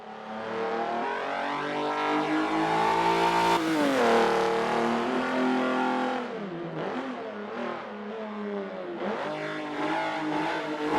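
A small French car, likened to a terrier, launches off the start of a race and sweeps through the first corner, its engine revving hard and rising in pitch, then dropping and climbing again through gear changes, loud and close throughout.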